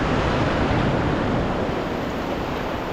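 Sea waves at Majali beach wash in as a continuous, loud surf roar with wind buffeting the microphone, no voices.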